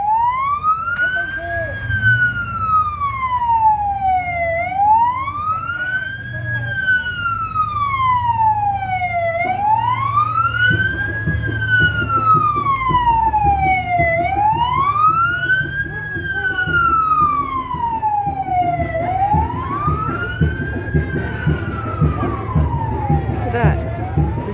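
A wailing emergency siren rises and falls in long repeating sweeps, loud and steady, over road traffic rumble.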